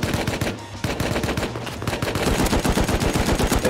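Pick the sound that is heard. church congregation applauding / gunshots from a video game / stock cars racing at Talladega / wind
gunshots from a video game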